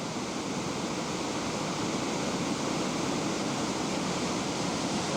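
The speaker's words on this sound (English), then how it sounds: "That's a pretty spectacular cataract." A large waterfall in Alaska roars in a dense, steady rush of broadband noise, loud and unbroken throughout, with no voices.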